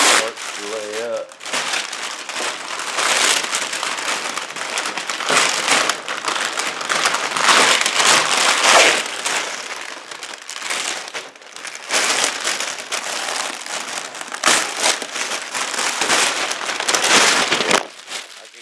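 Plastic sheeting crinkles and crackles loudly and continuously as it is handled and spread over a mold for vacuum bagging, with brief pauses between bursts of rustling.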